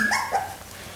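Four-week-old Australian Labradoodle puppies give a couple of short, high whimpering yips and a small bark close by, then the sound settles into quiet room noise.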